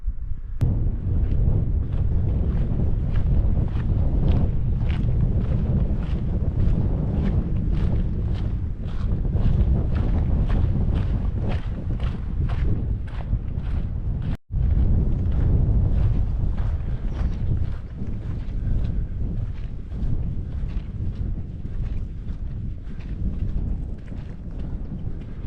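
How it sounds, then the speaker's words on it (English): Strong wind on an island buffets the microphone in a constant, heavy roar with gusty low rumbling throughout, interrupted briefly by one sharp thump. "it's just too windy"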